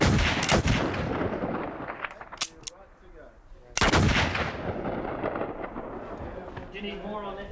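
Loud blank gunshots fired on the set of a 1996 Peter Jackson horror-comedy film, two sharp cracks with clattering echoes, then crew chatter and shouted direction over the noisy set.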